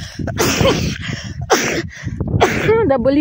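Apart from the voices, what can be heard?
sneeze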